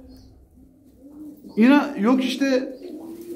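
Tumbler pigeons give a couple of close, throaty coos in quick succession after a quiet start, with someone speaking Turkish briefly nearby.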